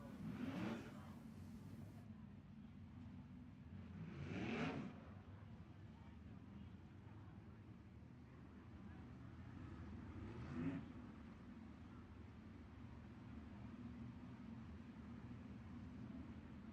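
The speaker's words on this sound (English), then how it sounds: "Brandon Spithaler gets that 22 car re-fired" A sprint car engine fires up at a 3/8-mile dirt oval speedway during Ohio Sprint Speedweek, with sharp revving bursts standing out over a steady wash of other engines and crowd noise.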